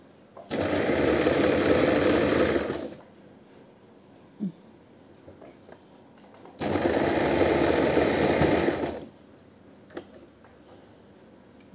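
Sewing machine stitching a kurta top: two sustained bursts of steady, loud motor-driven stitching, each a few seconds long, separated by a quiet pause with a faint click or two.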